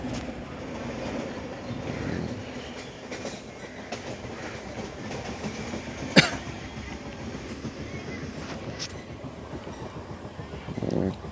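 A train running on rails on the way to Haridwar, a steady rumbling clatter of wheels heard from inside the carriage with rhythmic clicking, one sharp metallic squeal midway, and a faint voice near the end.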